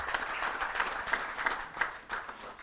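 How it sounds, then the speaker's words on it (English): Audience clapping at a white paper release event on border tourism, a moderate, fairly close round of applause with slightly uneven pulses of claps throughout. "A big round of applause."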